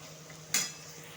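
A single sharp metallic clack of a utensil against a cooking pan while cashews and raisins are stirred, brief and close, followed by a quiet hum.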